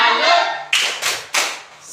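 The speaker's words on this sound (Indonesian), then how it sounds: "Oke, tepuk tangan untuk semuanya. Tepuk salut." Indonesian classroom doing a rhythmic clapping cheer: a brief spell of group clapping followed by three sharp, loud unison claps evenly spaced, close by, with faint voices underneath.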